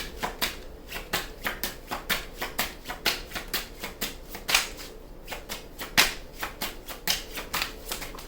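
Tarot cards are shuffled close up in a fast, steady run of crisp riffling bursts, quiet and without talking.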